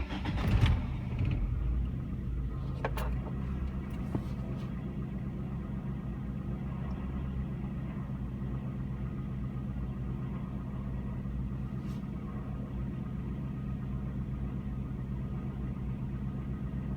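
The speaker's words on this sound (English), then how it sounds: "Start it up again." A 1998 Ford Contour with a 2.0L engine, air cleaner removed, cranks and fires up with a brief starter burst, then settles into a steady low idle rumble that runs on evenly, close by, with no talking.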